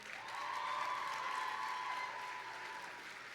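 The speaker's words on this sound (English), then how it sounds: "I would like to hear another round of applause for that breathtaking performance by Chloe." A gala audience applauds a performance with a steady, moderately distant round of clapping that holds evenly and tapers a little at the close.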